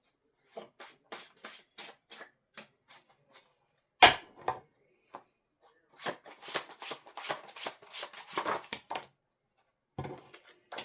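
Tarot cards shuffled and drawn in short bursts, crisp riffling flutters separated by pauses, with a sharp knock partway through, close and quiet with no talk.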